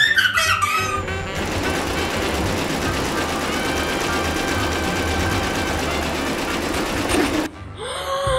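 Sewing machine stitching cloth during children's pretend play, a steady whirring mechanical run that continues for several seconds before stopping abruptly, with a voice heard briefly at the start.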